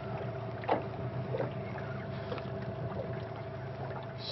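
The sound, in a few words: boat moving slowly while trolling for fish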